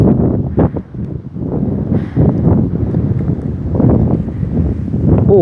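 Steady wind blowing across an open hillside farm field, a loud continuous rushing and buffeting close to the microphone with gusts that swell and ease throughout.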